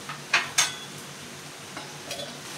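A spoon clinks against a pot as cashew curry is stirred after butter goes in, with a couple of sharp metallic knocks early and softer scraping and clinks after, under a faint background hiss.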